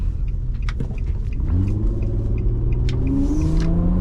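A 2006 Infiniti FX35 engine revs hard on a road drive, a deep rumbling drone with rising harmonic sweeps as revs climb, heard from inside the cabin, loud and continuous.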